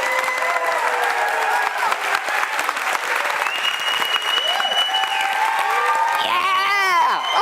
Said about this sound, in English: How about a round of applause for Carlos Carvajal?